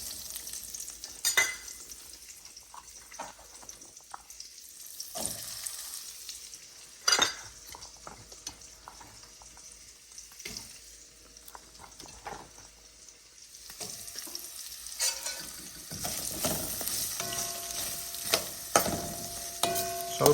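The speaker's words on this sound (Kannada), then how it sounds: "ಈಗ ಇದಕ್ಕೆ ಹಾಕ್ಲಿರ್ತೀನಿ ಉಳ್ಳಾಗಡ್ಡಿ" Onion fries in hot oil in a pan for Karnataka-style sambar, a soft continuous sizzle broken by repeated scraping and clinking stirs of a utensil against the pan, with the sizzle growing busier toward the end.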